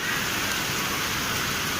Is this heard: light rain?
yes